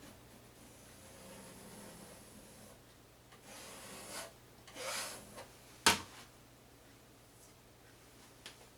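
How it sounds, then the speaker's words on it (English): Excess oil paint is scraped from a canvas in a few short, soft rasping strokes, quiet and close, ending in one sharper scrape and a faint tap. "Scrape off the excess."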